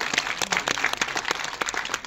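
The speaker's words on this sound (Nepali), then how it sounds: "सबैलाई सम्झेर सम्मान स्वरूप ताली बजाउँ त आफ्नो टिमलाई।" An audience at a screening of a Nepali feature film claps for the film's team, with many distinct claps rattling fairly loudly over about two seconds.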